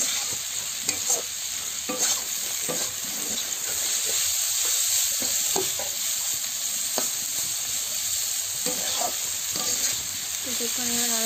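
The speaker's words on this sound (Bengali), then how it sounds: "কিছুক্ষণ আমরা নাড়াচাড়া করে দেবো" Bitter gourd and egg curry being stirred and fried in a pan, with a steady loud sizzle and repeated scraping strokes of the spoon throughout, no voices.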